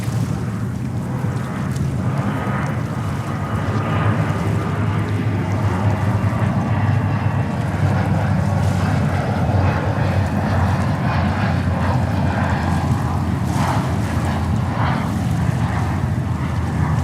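An Embraer 175 jet at JFK airport in New York gives a steady, loud engine roar that swells and holds, heard from fairly close with broad rushing noise.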